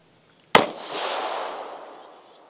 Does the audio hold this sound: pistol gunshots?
yes